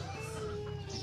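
Chickens on a farm clucking softly in a brief moment, faint behind a busy wash of background noise.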